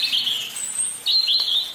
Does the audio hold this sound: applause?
no